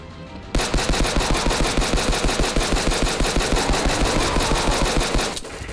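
Rapid automatic gunfire from The Last of Us, played in the RPCS3 emulator, rattles in a loud, steady stream of evenly spaced shots for about five seconds and then cuts off.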